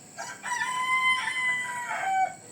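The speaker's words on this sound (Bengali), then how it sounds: "মোরগের ডাক শুনতে পাচ্ছেন" A rooster crows once in a drawn-out, wavering call, clear and fairly close, on a quiet terrace vegetable garden.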